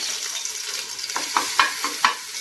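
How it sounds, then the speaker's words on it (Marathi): Ginger garlic paste frying in hot oil: a steady sizzle with a few sharp crackles and spoon scrapes toward the end, close by. "त्यामध्ये तेल टाकलेलं आहे। आता मी अद्रक लसणाची पेस्ट यामध्ये टाकणार आहे।"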